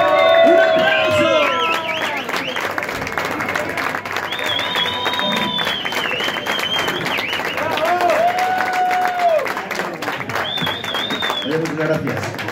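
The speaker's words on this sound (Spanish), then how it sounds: "¡Un aplauso!" An audience bursts into sustained applause and cheering for a performer at a tribute event, loud clapping mixed with whoops and shouted voices over a musical background.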